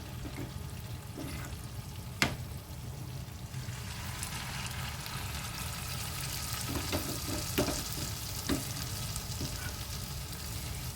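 Small round fritters of soaked, ground matar (pea lentil) paste deep frying in oil, a steady dense sizzle and bubbling throughout with a few sharper pops and spatters, no talking.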